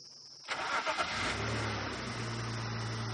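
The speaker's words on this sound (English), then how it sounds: "just let the engine run for a bit, so that she gets accustomed to the sound" A safari vehicle engine cranks and starts after a moment of quiet, with a few quick revs before settling into a steady, close idle on an evening game drive; no voices.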